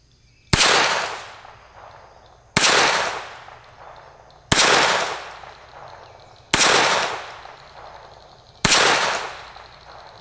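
Five loud, evenly spaced gunshots from a Walther P22Q .22LR semi-auto pistol fired outdoors at a distant target, each a sharp crack trailing off with a short echo, about two seconds apart.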